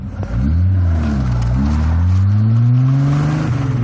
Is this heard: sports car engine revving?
yes